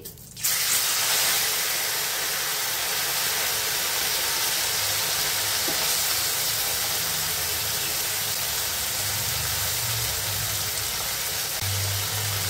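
Fish pieces drop into hot oil for frying, bursting into a loud, steady sizzling hiss that continues evenly throughout, with no talking.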